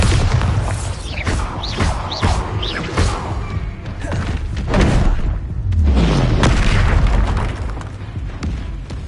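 Spell blasts and fiery explosions from the Hogwarts Legacy video game, with repeated loud booming bursts and thuds throughout, some whooshing sweeps, over a dense rumbling background of combat effects.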